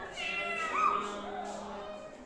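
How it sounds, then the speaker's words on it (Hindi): A cat meows once, a single drawn-out rising and falling call over a soft, steady background. "हमें बिल्ली ने जगा, बोली म्याऊं म्याऊं म्याऊं म्याऊं म्याऊं।"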